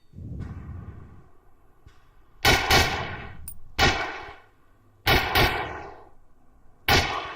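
Rifle shots at a shooting range in a video game: four sharp, loud reports with short echoing tails, spaced a second or two apart over a low steady background rumble.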